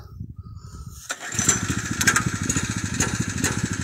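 The gasoline engine of a pressure washer fires up about a second in and settles into a fast, even, close-up putter. A low murmur comes before it starts, and the engine runs loud and alone afterward.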